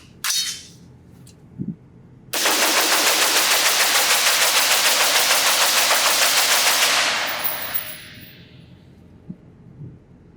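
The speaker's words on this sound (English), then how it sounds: "Let's put 30 more rounds through this as fast as I can and see what the heat measures on the handguard." Rapid sustained fire from a Gemtech Integra integrally suppressed 5.56 AR-15 upper on a range, a dense string of loud, evenly spaced shots running for several seconds after a couple of isolated reports, then tapering off.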